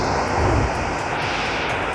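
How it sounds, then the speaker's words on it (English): Airplane engine starting up in a Roblox flight simulator game, a steady droning roar with a high whine, loud and continuous throughout. "Here's the engine starting up."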